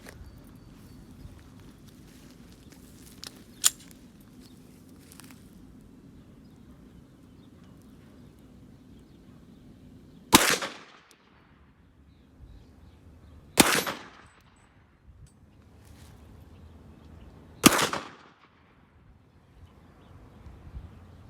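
Three loud, sharp shots from a Glock 40 MOS 10mm pistol at an outdoor range, spaced a few seconds apart, with a low background rumble and a faint earlier click.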